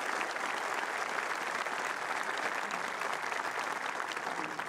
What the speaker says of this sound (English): So we have another big round of applause for our student speakers.